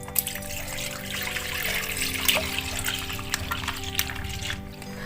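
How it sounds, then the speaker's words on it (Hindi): Two litres of full-fat cream milk pour into a kadhai holding a little water, a steady trickling stream of liquid running continuously beneath a low kitchen hum, with no talking. "इसमें ऐड करूंगी 2 लीटर फुल फैट क्रीम दूध"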